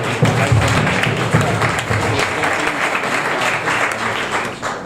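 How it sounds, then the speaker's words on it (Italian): Sustained applause from a crowd at a regional masters athletics awards ceremony, a dense, steady clatter of many hands clapping nearby throughout. "Certamente anche un applauso direi."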